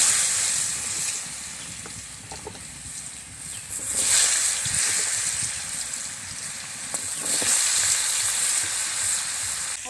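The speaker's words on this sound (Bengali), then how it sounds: "এবার আলুটা ভেজে নেব।" Potatoes fry in oil in a pan, giving a steady, loud, close sizzle that swells and eases with occasional stirring scrapes, with no talk.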